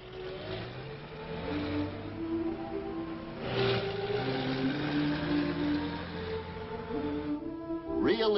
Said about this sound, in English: Ambulances and buses are pressed into service to take patients to the main hospital building.